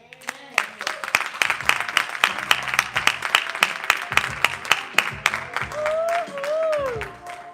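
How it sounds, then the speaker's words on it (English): An audience claps and applauds at a lyrical poetry event, a steady patter of many hands close by, with a few voices and cheers rising near the end. "Clap it up one more time for me, y'all"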